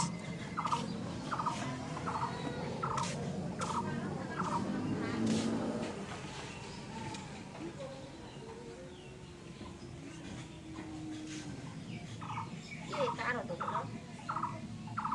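Ducks quack in quick bursts of short, repeated calls, fading for a while in the middle before another rapid run of quacks, against a soft outdoor background.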